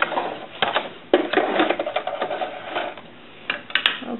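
A sewing machine stitches a small doll dress in short, uneven bursts of close mechanical whirring and clatter, stopping and restarting as the stitching backs up.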